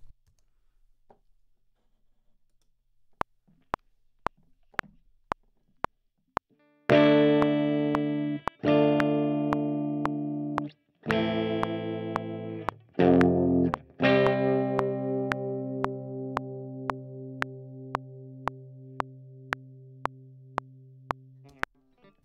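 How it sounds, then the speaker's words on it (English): Distorted electric guitar chords ring out in several sustained strums over a steady metronome click, loud and close after a few seconds of ticking alone. "let's lay down some guitar chords."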